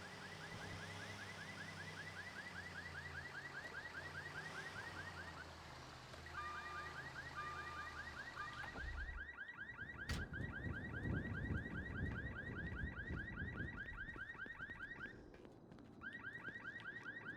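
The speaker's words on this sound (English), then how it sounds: "there's nothing more irritating than having a car beeping that you can hear" A car alarm beeps steadily in a fast, repeating electronic pattern, fairly distant, with a low rumble of traffic rising partway through.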